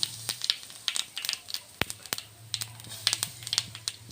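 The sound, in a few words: cumin seeds sizzling in hot oil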